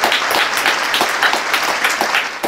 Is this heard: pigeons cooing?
no